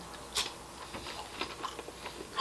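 Crunchy fried onion rings and potato scallops are bitten and chewed up close, with a sharp crunch near the start followed by a steady run of softer crackling chews. No one talks.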